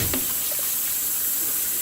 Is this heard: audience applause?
no